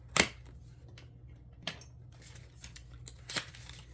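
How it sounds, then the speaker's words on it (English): Small scissors snipping open the packaging of a luxury limited-edition holiday makeup palette, a sharp cut near the start followed by a few fainter clicks and snips in a quiet room. "let me open it up with my little scissors"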